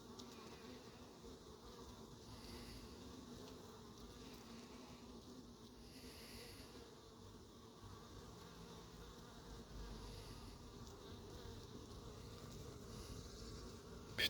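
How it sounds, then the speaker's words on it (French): Bees and a hornet buzz around the hives of an apiary in Crosne, a faint, continuous droning hum with slight swells as insects pass nearby. Nothing else stands out. "Petit frelon, il fait ce qu'il veut."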